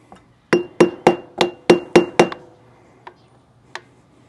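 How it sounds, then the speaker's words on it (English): Metal tool strikes against a trailer during a repair, seven sharp, evenly spaced knocks in quick succession followed by two fainter, isolated hits, loud and close with no talking. "put a screwdriver behind it. Start out with the smaller screwdriver."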